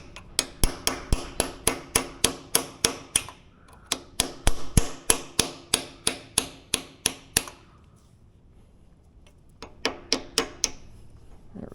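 A small ball peen hammer strikes the metal of a Powermatic milling machine in quick bursts of sharp ringing clangs, about a dozen evenly spaced hits per run, then a pause before a final short set.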